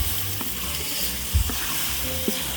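Humba, braised pork, sizzles and fries steadily in a pan during fiesta cooking, with a few soft stirring knocks and a clink of utensil against the pan.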